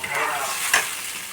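Water from soaked dried mango tipped into a pan of hot fried spice tempering, a loud burst of sizzling and bubbling close up, with a sharp hiss midway.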